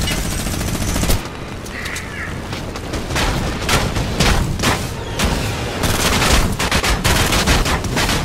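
Rapid bursts of gunfire from a Fortnite battle, loud and close, with overlapping shots and blasts sounding continuously throughout and no pauses between volleys.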